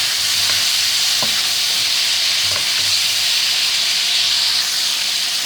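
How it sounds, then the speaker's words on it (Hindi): Chicken pieces frying steadily in a hot pan with lemon juice and vinegar for a Karhai dish, a loud continuous sizzle and hiss with occasional soft stirring knocks, close up and without talk. "चिकन को पकते हुए हमारे भूनते हुए 5 मिनट हो गए।"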